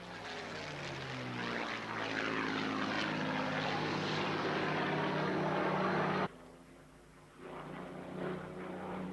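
A Supermarine Spitfire fighter passes overhead at an air show, its propeller engine droning loud and steady with a sweeping pitch shift, then cutting away abruptly before a fainter engine drone returns.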